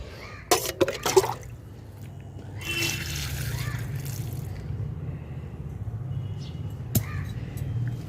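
About a bucket of water is poured onto a heap of leaf compost mixed with jaggery and buttermilk, a steady rushing splash lasting several seconds after a few sharp clicks and knocks.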